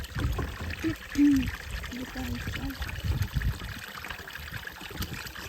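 Cold spring water pours steadily from a tap into a one-litre bottle, a close, continuous trickling stream with a brief voice murmuring over it.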